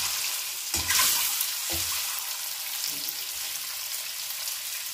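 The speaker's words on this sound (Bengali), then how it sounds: "আমি ডিমগুলো হালকা ভেজে নেব।" Eggs fry lightly in hot oil in a pan, giving a steady hissing sizzle with a few brief louder spatters and stirring knocks near the start.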